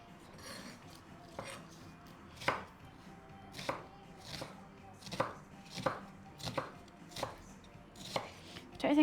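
Onions being chopped on a board while making bunny chow: about a dozen sharp knife strikes in an uneven, steady rhythm, close and alone with no talking.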